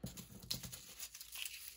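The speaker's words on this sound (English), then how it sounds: "It's just so easy just to fold it." Paper being folded for a small 6x9 junk journal, a brief close crinkling and rustling burst with soft crisp creases.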